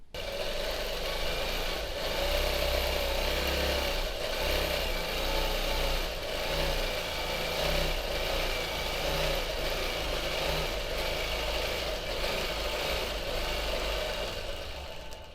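A sewing machine stitches free-hand feathered heart quilting with a continuous, fairly loud motor whir and rapid needle drone, steady in pace with slight rises and dips across the whole stretch and no speech.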